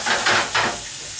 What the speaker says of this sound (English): I'm going to start by heating up some white onions for my sauce